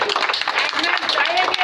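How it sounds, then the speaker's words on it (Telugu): Crowd applause at a cricket match prize presentation on a college ground: dense clapping from many hands, close and steady for under two seconds, mixed with talk. "ఒకసారిగా గట్టిగా క్లాప్స్ కొట్టే"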